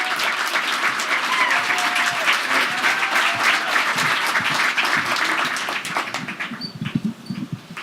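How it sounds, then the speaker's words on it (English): A crowd at a Moth storytelling event keeps clapping while a storyteller walks on stage, a full continuous round of applause that thins out near the end into scattered claps and a few thumps. "Keep clapping."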